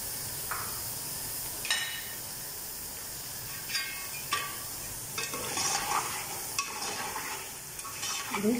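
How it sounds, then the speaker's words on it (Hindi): Yogurt being stirred into beef pulao cooking in a pot gives a soft steady sizzle, broken by several distinct scraping strokes of a spoon against the pan. "अब इसके अंदर 1 प्याली में दही शामिल कर देंगे।"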